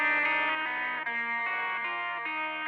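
A fuzz-distorted electric guitar plays a sustained melodic line without double-tracking, thick buzzing notes changing pitch every half second or so, heard alone and fairly loud.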